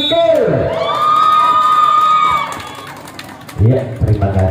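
Supporters at a Mustika Jaya versus Jaka Tingkir semifinal match cheer and shout in a loud, sustained crowd roar with whoops, fading after a couple of seconds before a fresh burst of voices near the end.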